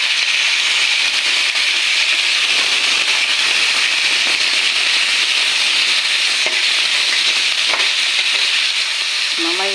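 Pork afritada sizzles hard in a frying pan as it is stirred, a loud, continuous hiss of hot oil broken by occasional light scrapes of the utensil, close and steady throughout.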